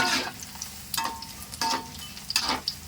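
Tofu fries in hot oil with a constant crackling sizzle, broken by a few louder bursts of spatter or stirring at irregular intervals. Close and fairly quiet, with no speech.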